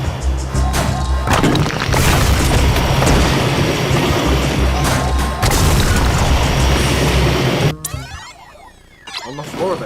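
Rocket blasts in a shooter video game: heavy booming explosions roll continuously for about eight seconds, then cut to a quieter stretch with faint debris and crackle near the end.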